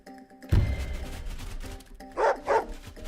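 A dog barks twice in the Wargroove video game, two short loud yips close together near the end over steady game music and ambient sound.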